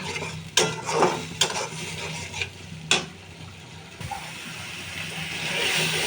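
Turmeric, chili powder, salt, cumin and green chillies fry in a pan with a soft sizzle while a spoon scrapes and knocks against the metal several times, then the frying continues quietly.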